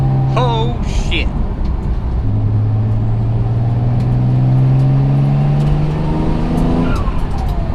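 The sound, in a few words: built twin turbo Mitsubishi 3000GT engine during full pull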